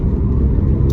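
Ferrari F430 engine and exhaust with a steady, loud low rumble throughout, close up, alone with no talk.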